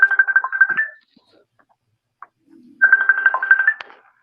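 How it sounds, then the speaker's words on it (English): A phone ringtone trills twice in close, loud bursts with a second of silence between rings, no talking. "Phone ringing?"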